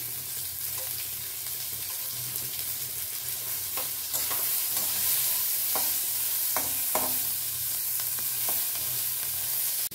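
Chopped onion and garlic with turmeric frying in a pan, a continuous loud sizzle with occasional sharp stirring scrapes and clinks from a spoon against the pan.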